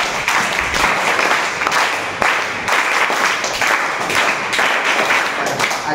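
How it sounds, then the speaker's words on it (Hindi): Schoolchildren clap together in a classroom during a road safety lesson, a loud, rapid patter of many small hands with brief dips and a few sharper accents across the stretch. "ताली बजा।"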